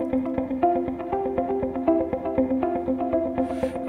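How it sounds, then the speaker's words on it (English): Three separate guitar parts are panned left, center and right for corporate-style music, playing steady interlocking plucked patterns together. The sound stays even and moderately quiet, with no voices. "All of these are three different guitar parts, three separate channels."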